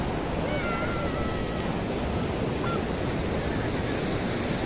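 Sea waves rolling onto Baga Beach in Goa in the early morning, a steady broad wash of surf with no breaks, moderately loud and continuous, with faint higher sounds.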